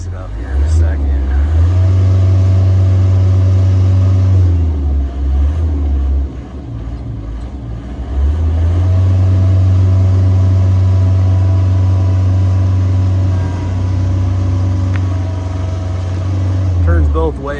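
Deutz diesel engine of a 1999 JLG 600S boom lift on air tyres, rumbling loud and near as the machine drives forward and reverse, revs surging, dropping, then surging again, with someone talking over it.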